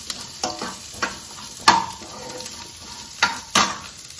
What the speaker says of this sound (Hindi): स्लिट की हुई ग्रीन चिलीज, अनियन और इसको अगेन हम सॉटे कर लेंगे